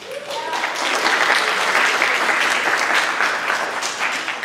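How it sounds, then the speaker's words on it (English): Audience applause at a high school senior awards ceremony, a loud, dense round of clapping that rises quickly and holds steady throughout, with some voices faintly mixed in. "Please give them a round of applause."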